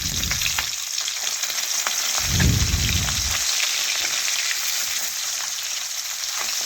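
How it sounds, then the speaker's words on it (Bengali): Fish frying in hot oil makes a steady, close sizzle throughout, with a brief louder bubbling burst as pieces are lifted out of the oil. "মাছগুলো তুলে নিচ্ছি তেল থেকে"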